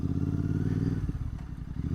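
A GT 650 motorcycle rumbles steadily at low revs while riding over a rough night road, with a deep continuous engine drone broken by clattering thumps and scrapes from bumps.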